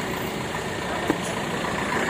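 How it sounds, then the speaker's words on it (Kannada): A heavy wood-cutting machine's engine runs in a steady, fairly loud drone with an even, unbroken rumble throughout and no voices. "ಇದು ಹೆವಿ ಮಿಷನ್ ಐತೆ, ಎಕ್ದಮ್ ಹೆವಿ ಮರ ಕಟಿಂಗ್ ಮಿಷನ್"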